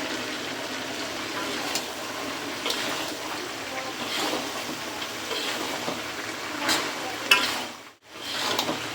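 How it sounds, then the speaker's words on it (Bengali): Vegetables and spices for a Bengali chana dal bhaji are stirred in a pan, with a steady soft sizzle and scraping strokes at a moderate level and a brief pause near the end. "মশলার সাথে সবজিটা ভালো করে মিশিয়ে নেব।"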